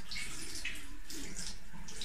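Cool water splashed onto the face during an eye-washing routine, a continuous close, wet rush and patter like running tap water, steady throughout with no voice.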